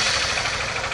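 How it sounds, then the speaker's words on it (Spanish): A Honda Forza scooter engine runs with a loud, close, rapid mechanical clatter and throb, continuous for a brief moment. "Vamos a arrancar la moto para comprobar el motor"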